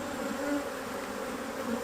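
Agitated honey bees swarm and buzz around an opened hive, a dense, steady drone with shifting pitch that fills the whole moment, close and continuous with no talk.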